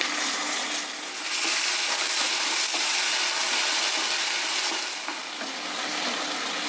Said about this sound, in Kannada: ಅವರೆಕಾಳಿನ ಹಸಿ ವಾಸನೆ ಹೋಗೋವರೆಗೂ ಎಣ್ಣೆಯಲ್ಲಿ ಚೆನ್ನಾಗಿ ಹುರಿಬೇಕಾಗುತ್ತೆ